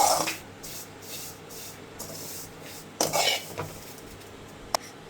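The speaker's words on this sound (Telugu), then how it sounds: "సిమ్లో పెట్టి కలుపుతూ ఉండాలి, మాడకూడదు." Kunafa roasting in a pan on low heat while being stirred, with a series of soft scraping sweeps, a louder burst of scraping midway and one sharp utensil clink near the end.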